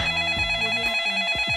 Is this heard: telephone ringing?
yes